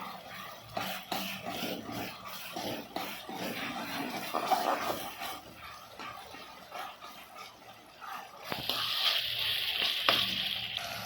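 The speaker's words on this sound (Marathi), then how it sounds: "आणि ते ते एकदम पेटी परतून परतून घेणार आहे" Pav bhaji vegetables sauté in oil in a pan, giving a steady close sizzle broken by scraping stirs, with the hiss swelling louder near the end.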